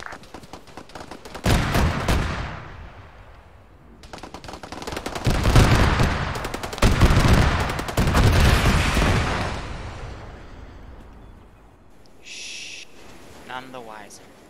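Mortar rounds from a fire mission land in a military video game, arriving as several loud clustered blasts and rattling bursts spread over the stretch, with quieter gaps between them and a faint tone near the end.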